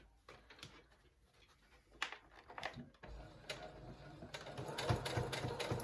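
A sewing machine stitches a seam along the edge of a fabric face mask in short, quiet mechanical bursts separated by pauses, with the run growing louder and steadier toward the end.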